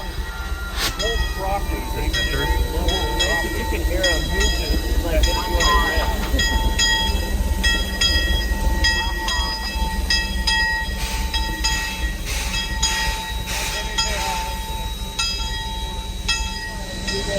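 Trains at a steam railway event rumble steadily throughout, with repeated metallic clanks and squeals over a constant low roar, nearby and fairly loud, and voices in the background.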